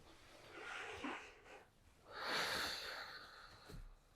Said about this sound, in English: Now breathe in.